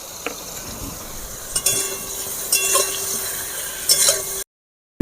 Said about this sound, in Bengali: ভালো করে আমি ভেজে নেব